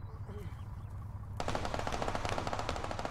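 Video game gunfire: rapid automatic bursts begin partway through and continue steadily, loud and dense over the game's background sound.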